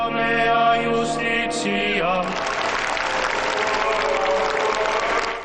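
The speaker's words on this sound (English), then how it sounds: "The crowd applauded when the Pope's body appeared" A large crowd packed into St. Peter's Square applauds as the Pope's body appears, a broad wash of distant clapping that follows a sustained tonal passage, likely bells or music, and continues steadily.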